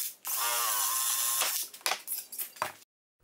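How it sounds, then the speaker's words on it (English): A power drill whines steadily for over a second as a 3/8 bit drills out holes, then bursts of grinding and bit chatter follow before it stops, close and loud. "with a 3/8 drill bit, I drill out all four of the holes."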